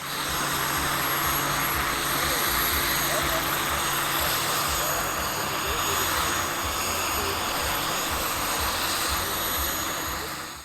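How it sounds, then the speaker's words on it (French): A steady, loud mechanical whir from an RC model helicopter with a rapid rhythmic chop of rotor blades beating the air, sustained throughout without a break. "le bruit de l'air qu'on entend le plus sur un hélicoptère avec les pales qui frappent à chaque fois l'air"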